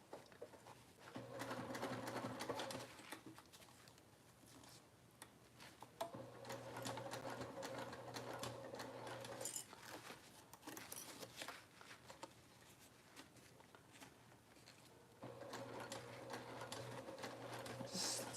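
A sewing machine sews the ends of a packing pod together, a close, even mechanical whir running through most of the stretch with a few brief slowdowns.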